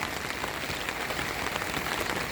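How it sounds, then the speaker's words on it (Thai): Steady rain falling in the early morning, a continuous dense hiss of drops pattering on surfaces close by, with no talking. "บรรยากาศฝนตกตั้งแต่เมื่อคืนครับ"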